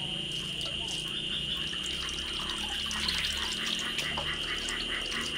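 Liquid fungicide solution splashing steadily over a potted aglaonema plant, a continuous close watery pour like a running tap, with a faint high tone behind it.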